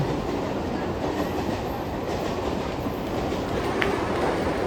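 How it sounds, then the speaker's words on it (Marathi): A local commuter train bound for Diva runs past at Diva Junction, a steady, loud rumble with wheel clatter that holds throughout, no voices. "दिवा जाने वाली लोकल है दीवा जंक्शन"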